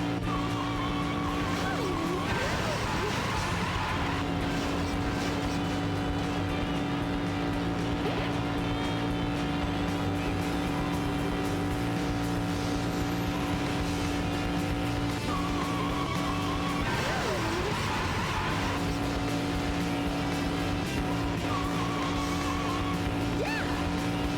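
Rouge Mobile car in Sonic Adventure 2 driving with a steady engine drone, broken by a few tire-squeal skids that rise and fall, moderately loud and continuous with no talk.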